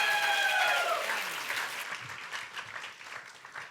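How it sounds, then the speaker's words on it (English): A round of audience applause for panelists on stage at a public health conference, loud at first and gradually thinning out as the clapping tapers. "And now maybe just a round of applause for all of them."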